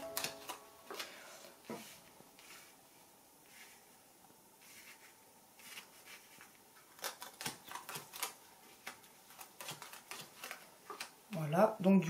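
Playing cards laid out one by one on a mat into a grand tableau spread, soft scattered clicks and light slaps of cards, with a person speaking quietly throughout.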